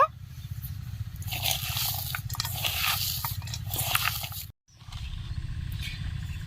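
Chopped onion, peas and green chilli being stirred by hand into a vegetable chicken pakora mixture, a steady wet squelching and crunching close up, with one brief pause near the end.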